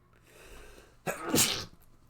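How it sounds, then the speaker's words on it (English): A single sharp sneeze bursts out after a quiet stretch, loud and close, with a quick intake and explosive release. "Sorry, I had to sneeze there."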